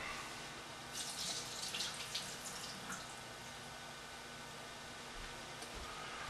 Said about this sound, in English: Just water boiling.